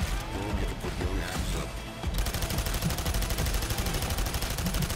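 Rapid automatic gunfire in Payday 2, a dense rattling burst that thickens into a steady, loud stream of shots after a couple of seconds, with no voices over it.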